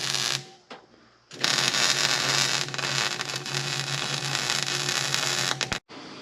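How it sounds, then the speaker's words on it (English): Arc welding of side boards onto a steel dump trailer in a shop produces a loud, steady crackling buzz that runs for several seconds after a brief start-and-stop, close and without talk. "We're welding the first one on."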